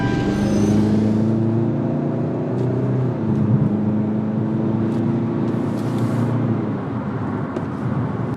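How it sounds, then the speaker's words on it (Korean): 2021 Kia Sorento MQ4 with a 2.2-litre diesel engine accelerating at full throttle, a steady loud engine drone with road and wind noise heard from inside the cabin and no talking. "2200cc 디젤 뭐 가속력은 또 상당하네요"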